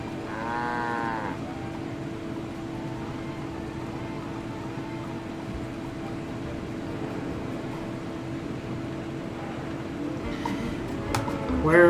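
Cow in the Nancy Drew game Secret of the Old Clock, with a short moo near the start over a constant low hum, followed by a long stretch of steady ambient drone.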